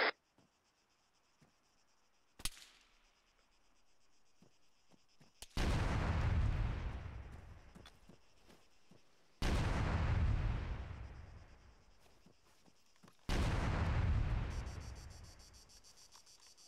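Explosive charges detonate in the military game Arma 3: three heavy booms a few seconds apart, each with a deep rumbling decay, after a sharp click and quiet background hiss, with no talking.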